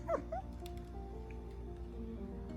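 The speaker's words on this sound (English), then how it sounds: "And there's our dog." A dog gives a couple of short, high whimpering yips at the start, then falls quiet over a steady low background hum outdoors.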